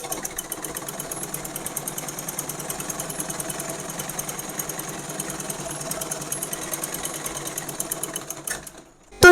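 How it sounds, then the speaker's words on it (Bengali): A sewing machine stitches scraps of cloth together for a bedsheet, running in a fast, steady mechanical chatter close by for several seconds before stopping abruptly near the end. "তো এরকম করেই আমরা 14টি কাপড় সেলাই করে নিব।"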